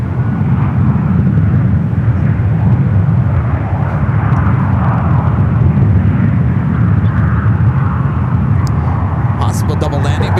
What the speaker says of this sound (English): Do have a JetBlue lined up, one right. While those Heavies on their way in, this flight heading to Boston, flight 1734. It's an A321 Neo.